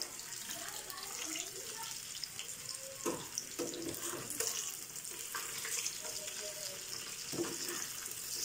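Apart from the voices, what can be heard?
fish frying in a pan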